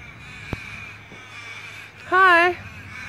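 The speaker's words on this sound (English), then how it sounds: "I've never heard these crows like this before, ever." A single loud, harsh caw rings out after a sharp knock, with quiet background noise otherwise.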